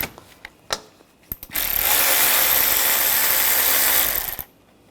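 A hand ratchet with a 13mm socket loosens a nut on a 2013-2022 Buick Encore's AC condenser mount. A few sharp clicks lead into a steady, dense ratcheting burr lasting about three seconds, close and fairly loud.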